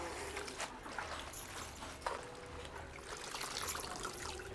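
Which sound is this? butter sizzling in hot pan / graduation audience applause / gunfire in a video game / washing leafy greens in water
washing leafy greens in water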